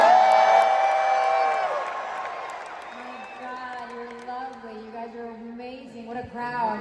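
A crowd at a D23 fan event cheering and whooping loudly, fading to scattered calls and claps over several seconds, with a voice over a speaker system drifting in beneath.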